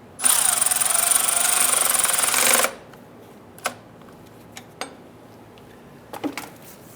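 A power tool tightens the starter nut on a 2005-2010 Chrysler 300 5.7L V8 Hemi, one loud sustained whirring burst of about two and a half seconds, followed by a few quiet metallic taps and clicks.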